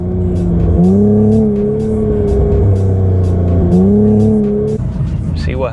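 An Infiniti Q50/Q60 with a Z1 rear diff brace launches hard from a stop, its engine revving loud and close and climbing steadily through the gears, with a rising, shifting whine and a brief tire chirp near the end.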